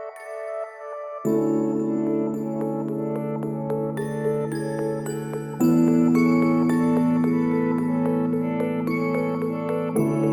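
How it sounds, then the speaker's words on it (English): An instrument bus of keys and pads playing together in a song arrangement, sustained pad chords shifting every few seconds beneath tinkling melodic notes, full and smooth with no voices. "The instrument bus and the keys and pads together sound something like this."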